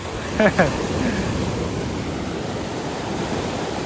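Ocean surf rolls steadily at Palolem Beach in South Goa, a constant broad wash of waves and wind near the microphone, with a brief burst of voices early on.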